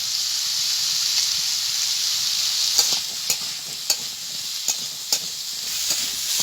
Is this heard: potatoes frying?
yes